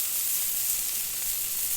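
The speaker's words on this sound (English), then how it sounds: "I just dropped my burgers on the Blackstone" Burger patties sizzle on a hot Blackstone griddle with a loud, continuous hiss and no talking.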